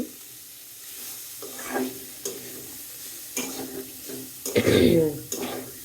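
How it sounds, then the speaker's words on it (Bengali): Sliced bitter gourd (ustha) frying in a pan gives off a soft sizzle, broken by a few scraping stirs and one louder clattering burst near the end, with no voice over it. "এটা তো আমি উস্তা ভাজি করছি।"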